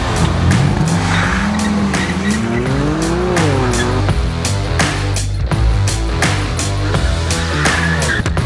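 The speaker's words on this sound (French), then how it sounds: "Les voitures sont là, ils sont en train de tourner, ça a l'air de dégénérer." Rear-wheel-drive cars, a BMW M3 and a Toyota GT86, drift close by with loud, continuous tire squeal over revving engines, the pitch swooping as they slide.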